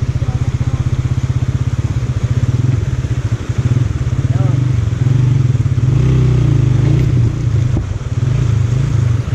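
A motorcycle engine thumps in a rapid, steady beat as the bike is pushed through water on a rough mountain track in Shamsher Valley, Battagram, Pakistan. It is close and loud, with clattering and people talking over it.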